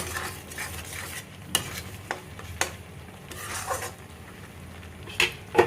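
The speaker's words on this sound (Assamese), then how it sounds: "মছলাখিনি দি দিছোঁ ধুনীয়াকৈ। এতিয়া আৰু অকণমান ভাজি ল'ম" Cumin and coriander powder fry in a pan while a utensil stirs and scrapes, sharp clacks and scrapes rising over a soft background sizzle, with a cluster of louder knocks toward the end.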